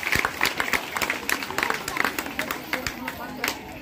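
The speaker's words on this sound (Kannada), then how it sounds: "ಹಾಗಾದ್ರೆ ಹಾಕಿ ಮತ್ತೊಮ್ಮೆ ಚಪ್ಪಾಳೆ" Audience at a school Constitution awareness event claps in a quick scattered burst, moderately loud, with crowd murmur and voices mixed through the applause.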